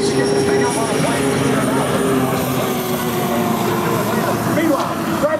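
A turbine-powered unlimited hydroplane racing boat on the river course at the Madison Regatta whines and roars steadily as its turbine spools up, a loud continuous rush heard under a commentator's voice.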